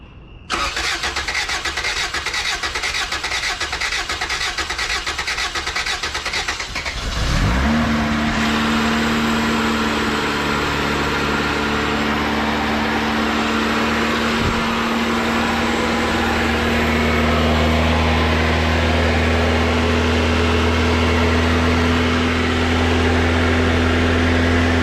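A Honda B18B1 car engine cranks over, catches and settles into a steady, fairly high idle, loud and close with no talk.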